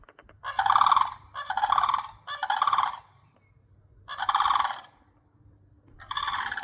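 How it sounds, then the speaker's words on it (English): Sandhill cranes in Florida, met on a morning walk, give loud rolling, rattling bugle calls in five separate bursts of about a second each with short quiet gaps, close by. "they're making some noise. Sandhill cranes, yeah, Florida Gangsters."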